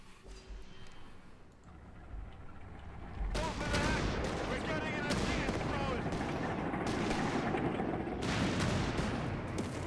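Anti-tank fire from a 17 pounder gun in a wartime video game, with heavy blasts starting a few seconds in and repeating over a dense, loud battle din of gunfire and explosions.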